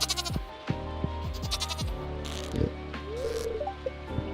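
Goats bleat in the farming video game Stardew Valley, a few short wavering calls in the second half over a steady mellow music backing with soft percussive taps.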